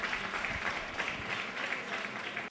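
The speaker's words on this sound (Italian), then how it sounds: "applausi anche da parte del pubblico della tribuna" Stadium stand crowd at a football match applauding, a steady wash of distant clapping throughout, with no clear voices on top.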